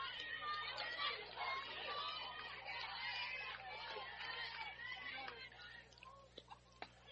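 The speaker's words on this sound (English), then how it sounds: "I'll let the crowd speak for itself" Cheering and chattering crowd at a high school softball game, a steady mass of voices swelling and fading, with a few sharp claps or calls near the end.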